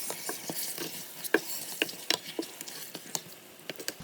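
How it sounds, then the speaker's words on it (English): Lamb meat being stirred in a curry pot, giving a string of soft scraping and clinking strokes with light sizzling underneath, close by and without talk. "Okay, so the lamb is going in first. So I'm going to give it a good stir."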